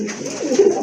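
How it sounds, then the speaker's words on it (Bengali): A single close, loud pigeon coo rises and falls in one short rolling phrase, heard alone without talk. "এই যে দেখেন এটা হচ্ছে আপনার নর কবুতর মাশাআল্লাহ"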